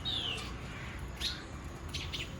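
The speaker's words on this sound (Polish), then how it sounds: "Każdego ranka i każdego wieczoru te ptaszki tak jakby walczą o miejsce w palmie." Small birds in a palm tree in the Dominican Republic give a few scattered, high, thin chirps and tweets that stand out against a quiet outdoor background.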